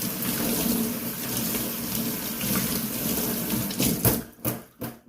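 Tap water runs steadily over a shaving brush as it is rinsed under a faucet, then the flow breaks into short splashes and gurgles as the brush is moved in and out of the stream.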